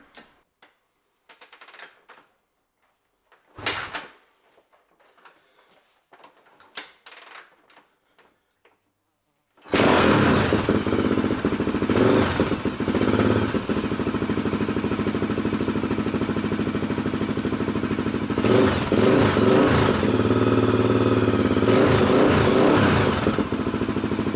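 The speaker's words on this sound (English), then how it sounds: "we can give this thing a little stab of throttle when we try and start it" A 2002 Honda XR 400 motorcycle is cranked with a stab of throttle: several short, sputtering bursts and pauses, then the engine catches and runs loud and steady, close by, with slight rises in revs.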